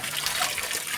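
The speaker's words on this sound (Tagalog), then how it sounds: "Pagka may ganito, old school na poso, ayan, libre," Water pours steadily from an old-fashioned hand pump in a rural setting, a close, continuous splashing gush with no voices.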